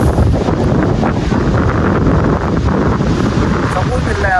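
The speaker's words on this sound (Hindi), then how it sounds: "क्या हवा चल रही है, सुकून है यहाँ पे" Strong sea wind at the Do Darya seaside in Karachi roars continuously across the microphone, a loud, buffeting rush throughout.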